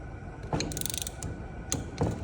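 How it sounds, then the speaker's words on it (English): A torque wrench on a small engine clicks at 210 inch-pounds over a crisscross pattern. A few close, sharp metallic clicks and ratchet snaps sound over faint background noise, with no voices. "210 inch-pounds, you're gonna feel that slight click."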